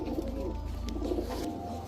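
Running Gorra pigeons coo softly in a steady low murmur, at a moderate distance, under constant background hum with no talking.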